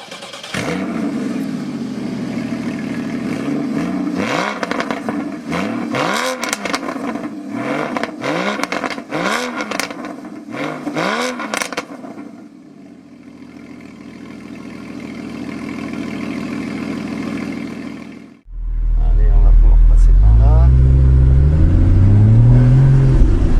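A sports car engine revs hard through repeated rising sweeps, climbs steadily past about 4000 rpm, then settles into a steady drone. It ends in a louder, deeper roar, close and with no voices.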